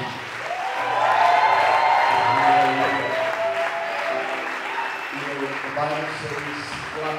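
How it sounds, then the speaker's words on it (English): A church congregation claps and shouts in worship, a rising roar of applause mixed with voices calling out, with tonal singing-like shouts layered over the clapping throughout. "One of the ways that we can celebrate God's presence is with our clap and with our shout."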